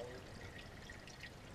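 Water pours in a soft, steady trickle into a Toyota pickup during an engine swap, faint and continuous with no talking.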